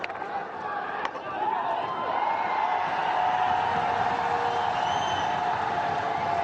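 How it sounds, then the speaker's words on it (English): A large crowd at a Canada versus India hockey Olympic qualifier roars in support of the Indian team, a sustained, swelling cheer heard from a distance under a commentator talking. "Listen to the crowd getting behind the Indian team here"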